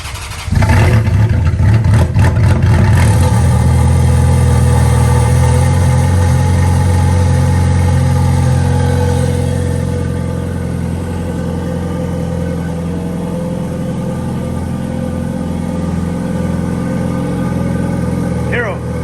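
A vehicle engine cranks and fires up loudly, revving briefly before settling into a steady, rumbling idle that eases slightly in level over time.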